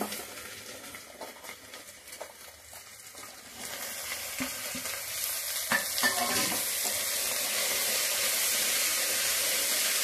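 Cauliflower, carrot, peas, potato and capsicum frying in a pan with a hissing sizzle, light stirring and utensil taps that swell louder and denser after a few seconds.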